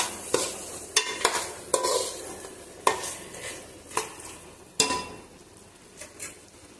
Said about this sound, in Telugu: మసాలా వేసుకొని ఒకసారి కలుపుకుందాం.